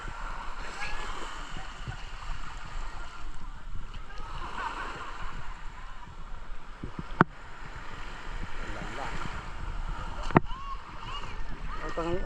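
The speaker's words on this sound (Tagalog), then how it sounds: "Malakas yung alon eh." Strong waves at a rocky beach in Real, Quezon make a constant rushing, churning wash with occasional sharp knocks, and voices talk now and then.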